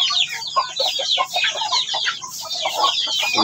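Native hen with her newly hatched chicks, close by: a busy, continuous chatter of soft clucks and high chick peeps overlapping without pause, no voices.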